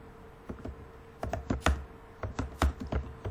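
Typing on a computer keyboard while writing in WordPad, quiet, irregular clusters of close key taps with short pauses between them and no talk.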